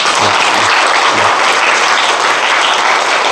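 A church congregation applauding, a dense, even wash of clapping that holds steady and loud throughout.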